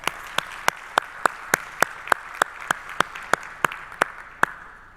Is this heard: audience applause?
yes